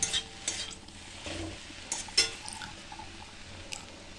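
Food being stirred in a cooking pot after salting, soft scraping and light utensil clinks over a faint simmering sizzle, quiet and close, with no talking.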